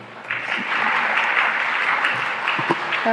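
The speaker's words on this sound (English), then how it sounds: "That definitely deserves a round of applause." Steady applause from a crowd at a COP26 climate ministerial session, starting after a brief quiet moment and continuing evenly throughout at moderate loudness.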